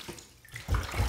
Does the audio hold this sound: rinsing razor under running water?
yes